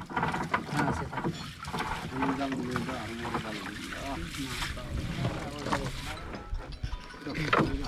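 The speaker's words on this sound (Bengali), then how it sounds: "কাঠের নৌকা।" A wooden boat moving on a river in Lalmonirhat, Bangladesh, with steady close water noise, wind buffeting and knocks carrying on throughout the whole stretch.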